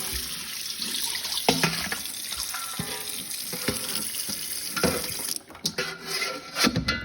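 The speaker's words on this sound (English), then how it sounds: "I grab the bowl, rinsing it off as well." Water runs from a kitchen tap as a bowl is rinsed beneath it, a constant splashing hiss with clinks and knocks of the bowl, then the flow cuts off near the end.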